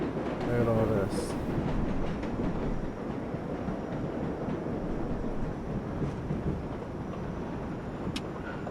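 A New York subway number 7 local train in World of Subways 4 rumbles steadily along the track with a continuous clattering drone, loud and close, while faint voices murmur briefly near the start.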